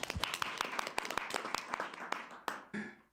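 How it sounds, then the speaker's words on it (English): Applause at a city council meeting in Oldsmar: a brief, moderately faint round of clapping from a small crowd, quick irregular claps that thin out and fade after about three seconds. "which deserves a round of applause"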